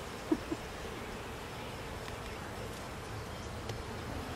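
Honeybees at an open hive, agitated and growing louder, make a dense, continuous buzzing hum that fills the space close by, with a couple of faint knocks near the start and no talking.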